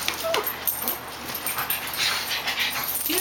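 A dog indoors gives loud, close whimpers and high yips in a continuous, restless run over a few seconds.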